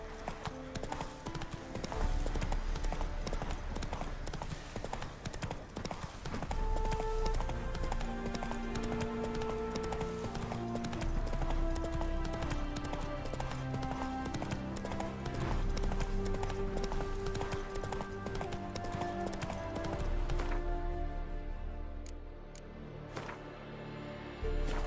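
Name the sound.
horse Roach galloping, hooves clip-clopping, in video game The Witcher 3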